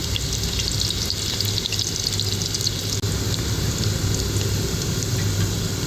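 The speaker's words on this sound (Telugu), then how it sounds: "నూనె కాగినాక ఒక ఉల్లిపాయ కట్ చేశాను. సన్నగా కట్ చేసుకున్న ఉల్లిపాయ వేసుకోవాలి." Thinly sliced onion frying in hot oil for a spicy chicken dish, a steady, dense sizzle and crackle that holds evenly close by throughout, with no talking.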